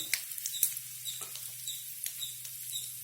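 Urad dal, curry leaves, asafoetida and turmeric frying in hot oil for murungaikeerai adai dosai, giving a soft, faint crackle with scattered light pops and a few spoon taps, close by and without talking.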